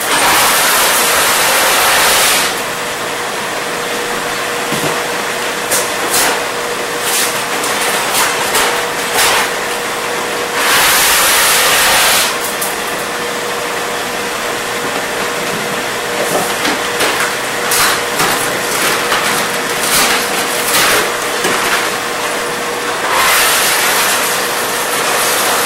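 A large pot of water boils hard with pasta cooking in it, giving a dense, steady rolling roar. Surges rise and fall throughout, with no speech.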